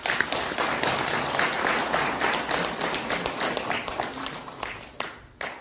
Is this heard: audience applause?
yes